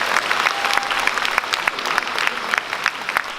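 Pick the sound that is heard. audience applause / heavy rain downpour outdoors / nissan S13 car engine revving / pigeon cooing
audience applause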